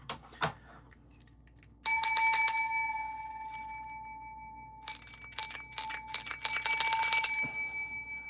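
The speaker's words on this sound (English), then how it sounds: "Let me hit the bell." A bell rung in celebration of a new photo booth sale, struck in two loud bursts of rapid ringing, with bright tones ringing on and fading between them.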